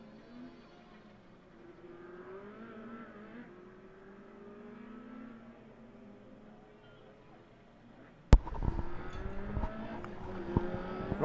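Race cars driving back down the Killarney circuit, a far-off engine drone that rises and falls before a sudden loud burst of closer engine noise, with a commentator talking over it.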